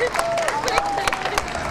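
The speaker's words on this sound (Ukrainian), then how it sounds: "ваші оплески" Audience applauding at a city day celebration on an outdoor stage, a short burst of steady clapping with crowd murmur and a tonal whistle-like sound running through it.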